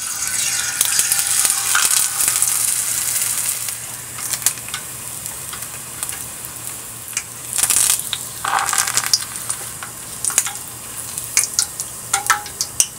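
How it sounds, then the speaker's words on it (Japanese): Shiso leaves deep-frying in tempura batter in medium-temperature oil: steady bright crackling sizzle with louder bubbling bursts and occasional sharp pops, close and continuous, no talk. "大葉は中温で揚げていきます。"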